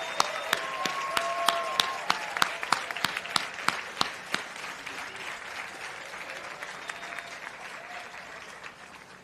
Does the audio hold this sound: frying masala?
no